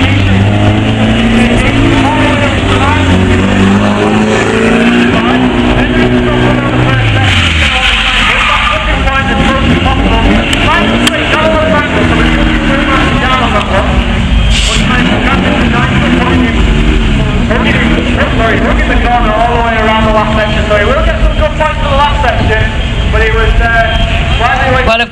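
A stunt car at a Silverstone stunt show revs and drives toward a ramp, its engine note rising and falling loudly over about 25 seconds, under continuous commentary talk.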